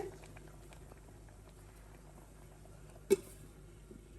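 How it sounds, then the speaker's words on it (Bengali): Pot of dal lentils boiling on a home stove, a soft steady bubbling patter running throughout at low level, with one brief sharp knock near the end. "আর এখানে ডাল সিদ্ধ হচ্ছে"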